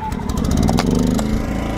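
A portable generator engine fires up on the run setting without choke and settles into a loud, close, steady buzzing run.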